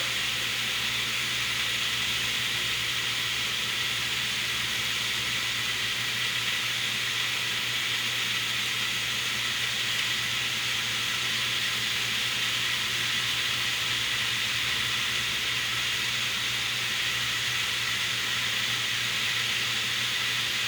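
One pound of ground chuck cooking in an Orb food centrifuge, a steady loud hissing sizzle with a constant low hum that holds even through the whole stretch.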